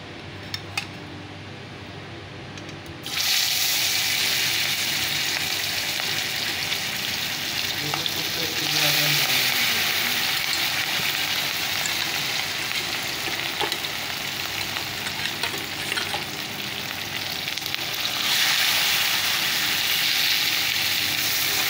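Fish dropped into plenty of hot oil in a home kitchen, bursting into a loud, continuous sizzle after a quiet start, with occasional utensil clinks and stirring over the frying.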